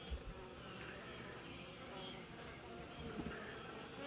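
Honeybees hum at an open hive, a steady, dense, close buzz from many insects that carries through the whole span with no break, unaccompanied by voices.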